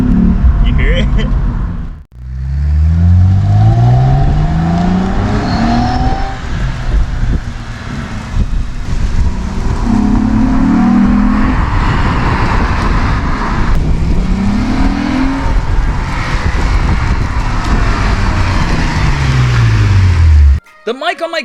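A 2011 Lexus IS250 with an upgraded exhaust revving and pulling away in several rising bursts, loud and close with wind noise, engine sweeps repeating over the drive.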